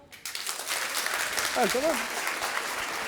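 A live audience applauds in answer to a show-of-hands question at a public recording of a French comedy show, dense clapping filling the room for about three seconds while a voice briefly speaks over it.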